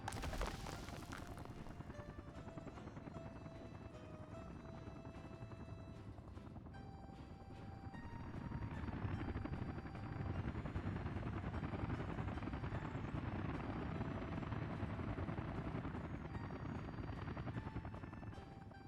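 Helicopter rotor chop from a construction squad in the Soviet city-builder Workers & Resources: Soviet Republic, a steady loud whir mixed with game music and ambient noise, growing fuller midway and holding throughout.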